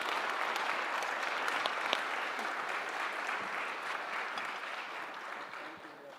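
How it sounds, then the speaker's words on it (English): Steady applause from a conference audience for a panel of speakers at an economics event, sustained and fairly even throughout with scattered sharper claps. "I will sort of welcome you to the round of applause to the panelists."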